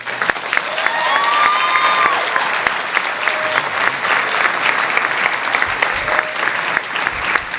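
A convention hall crowd at a comic con panel breaks into loud, sustained applause with some cheering, dense clapping filling the room for several seconds.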